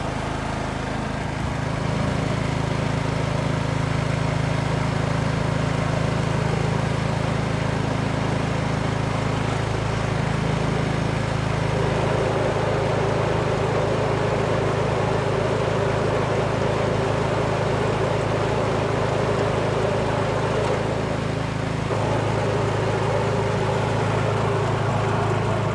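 A Yard Machines snow blower engine runs steadily with its auger turning, a loud continuous mechanical drone that holds for the whole stretch with slight shifts in tone partway through.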